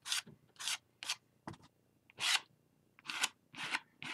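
Dried paint scraped across a mixed-media canvas in about eight short, rasping strokes with brief pauses between, close and fairly quiet, no talking.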